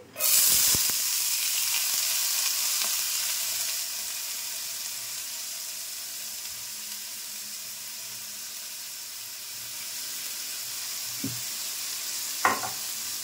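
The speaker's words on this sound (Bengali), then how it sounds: "ছোলার ডালটা দিচ্ছি" Chana dal is tipped into hot oil in a pan for dal moglai, a loud, steady sizzle up close that eases slightly over time, with a couple of brief scraping stirs near the end.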